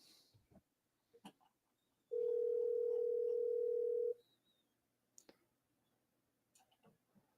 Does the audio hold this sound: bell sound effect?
no